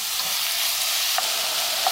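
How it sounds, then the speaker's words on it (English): Pork pieces browning in a hot pan for adobo give a steady, close crackling sizzle, with two brief utensil clicks from stirring and no talking. "So now we want to brown our pork before we add in all the other ingredients."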